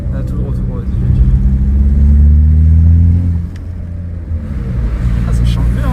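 A stage 2 tuned VW Passat with over 300,000 km accelerating, its engine note climbing loud and rising in pitch, easing off, then building again, with people talking inside the car over it.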